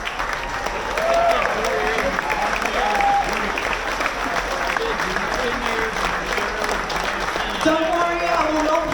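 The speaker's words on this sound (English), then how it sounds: "keep that round of applause going" Steady crowd applause for Navy service members at a hero salute event at Islander Margaritaville, continuing broadly and evenly throughout with a few voices and whistles rising above the clapping.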